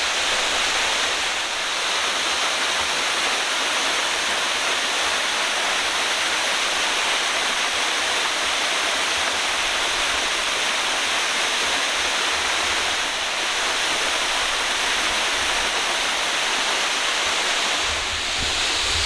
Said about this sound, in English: I will try to get behind the waterfall and see it from the other side.